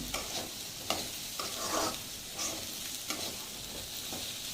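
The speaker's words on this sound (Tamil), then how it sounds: "ஒரு 2 நிமிஷம் நல்லா கிண்டி விட்டுக்கிடணும்." Carrot and beans stir-fry being stirred in a pan, a soft continuous sizzle broken by repeated scraping strokes of a spoon against the metal, close and alone.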